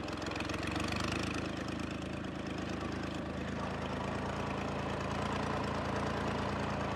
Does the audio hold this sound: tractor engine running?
yes